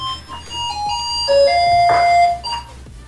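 An electronic doorbell chime from the game League of Legends plays a short melodic run of bright tones over a low droning background, loud and close.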